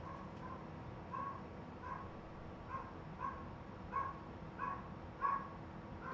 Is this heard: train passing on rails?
no